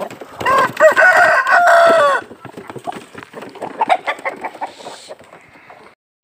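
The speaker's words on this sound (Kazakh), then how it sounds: "Міне мен атишім." Roosters crow loudly and close by in a busy yard of fighting cocks, followed by several seconds of scattered clucking and scuffling from the flock.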